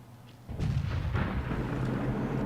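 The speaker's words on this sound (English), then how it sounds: "And Deluxe receives some artillery attention, but none of them connect." Artillery fire in World of Tanks, heard as a heavy deep boom that rises suddenly and rolls on as a sustained low rumble, loud and alone with no talk.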